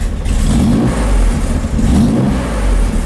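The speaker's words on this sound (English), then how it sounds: "Let's put the valve cover back on and fire the motor up." A Chevrolet Corvair engine runs steadily just after a valve adjustment, with a loud, continuous mid-pitched idle and a few slight swells in revs. It is heard up close, with no voices.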